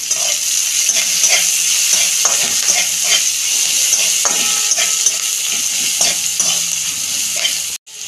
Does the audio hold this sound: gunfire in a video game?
no